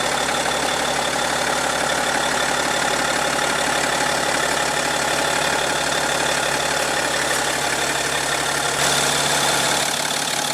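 A 2015 BMW X5 with a 3.0-liter inline-six turbo diesel idling, a loud, steady engine rumble with a faint diesel clatter that runs unbroken and close throughout, with no talk.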